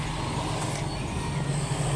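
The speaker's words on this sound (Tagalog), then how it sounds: "wag niyo na pakinggan ang mga naririnig niyong motor tricycle kasi nasa labas ako nagbo-voice over" Motor tricycles passing outside on a street, a steady loud engine drone with a low hum filling the whole moment and no clear gaps.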